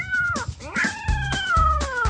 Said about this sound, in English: This one's pretending to be a cat.